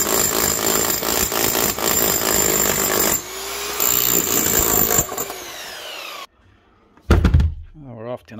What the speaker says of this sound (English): Obviously that's hammering,